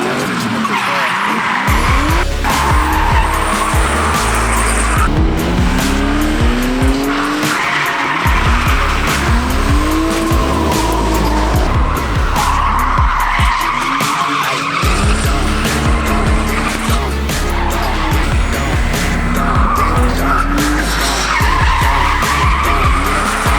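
Drift cars battling on an abandoned urban track, tires squealing and skidding continuously for the whole stretch, engines revving loud and close with repeated rising and falling pitch sweeps.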